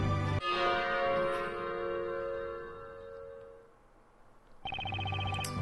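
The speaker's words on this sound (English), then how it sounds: "After the bell sounded," A bell rings in Professor Layton vs Phoenix Wright, a bright metallic strike with sustained tonal overtones that slowly fade over several seconds, followed by a second loud struck bell near the end.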